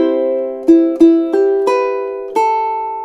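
A ukulele plays a phrase: a sustained chord, then five single plucked notes, each ringing clearly before the next. The playing is close and unaccompanied.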